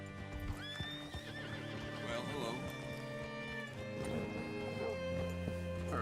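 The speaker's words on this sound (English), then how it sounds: "Hitch your horse up here." Horse in Red Dead Redemption 2 whinnying and clopping its hooves at a steady walk, with the neigh rising clearly early on, over a continuous musical and ambient game backdrop.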